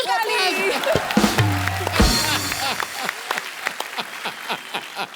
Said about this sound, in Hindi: गुरु, ठोको ताली।